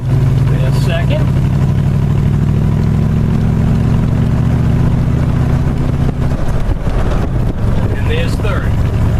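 An old truck with a three-speed column-shift manual runs loud and close, its engine drone steady, then drops in pitch as a gear changes, with wind buffeting the microphone and someone talking over it.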